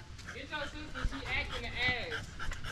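A pet dog pants and whimpers indoors in a house, with soft high whines and breathy panting close by, while people talk and laugh over it throughout.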